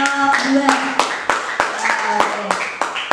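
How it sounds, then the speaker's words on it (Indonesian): A classroom group claps for a student team in sharp, separate bursts of hand claps at roughly half-second intervals. Voices talk and murmur underneath throughout. "beri tepuk tangan untuk kelompok 2"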